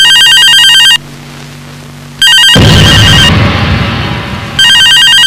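A telephone rings loudly in a kidnapping crime drama scene, with bursts of bright electronic trilling separated by pauses and a rushing noise in the middle gap.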